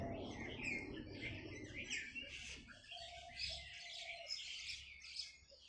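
Bulbuls and mynahs chirp and call around a bird feeder on a morning, with bright overlapping tweets throughout and a brief steady tonal call in the middle. The calls are moderately close, and no one speaks.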